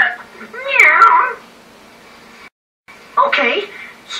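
Cartoon character in a dog-versus-cat episode gives a drawn-out, wavering meow in place of a bark, then a second shorter meow after a brief pause; a close voice imitates a cat, loud and clear.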